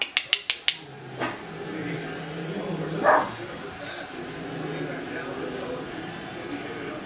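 Several puppies bark and yip in a quick burst of sharp close yelps at the start, then a few scattered whimpers over steady background noise.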